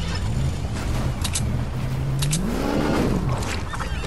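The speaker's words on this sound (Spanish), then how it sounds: "Como suena el coche, ¿no?" Engine of a car in the Fortnite video game, a low steady hum that rises in pitch as it revs, heard close and fairly loud over game ambience.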